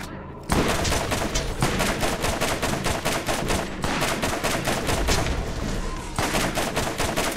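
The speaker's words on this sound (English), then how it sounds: "Dis is moorde, dis hulle artillery." Rapid video-game gunfire from alien-fighting combat, dense bursts of sharp repeated shots in quick succession with brief pauses between volleys, loud and continuous after a short quiet start.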